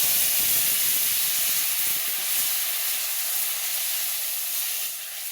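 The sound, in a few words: curry poured into pan with fried garlic, sizzling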